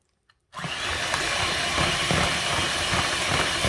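A mixer starts with a sudden click and then whirs steadily as it works minced cherries into cookie dough, a constant motor hiss holding at even volume.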